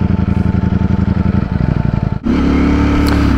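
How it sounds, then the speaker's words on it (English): A motorcycle engine idles with a deep, loping exhaust pulse close by, then the throttle opens and it settles into a steadier, louder rumble. "I cannot tell you how good this exhaust sounds at a low RPM"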